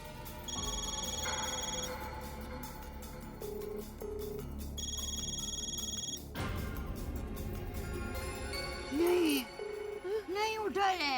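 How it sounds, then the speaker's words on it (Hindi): A telephone rings unanswered in a residential society office, with repeated electronic bell trills in bursts, some mixed with music and other sounds. "रिंग ही जा रही। एक बार फिर से कीजिए ना।"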